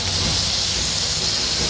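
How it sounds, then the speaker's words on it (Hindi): Chopped tomatoes hitting hot oil and cooked spices in a pan while preparing a Tharu-style snail (ghonghi) soup, giving a steady, close, loud sizzling hiss that holds evenly throughout with no talking. "अब इसमें हम लोग टमाटर डालेंगे"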